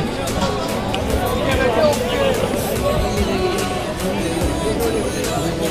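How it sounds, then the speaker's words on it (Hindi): A dense crowd of shoppers fills Delhi's Chor Bazaar near Jama Masjid with constant close babble, overlapping voices and footsteps, loud and unbroken throughout. "उसी के जस्ट सामने में भाई इतनी सारी भीड़ देख रहे हो"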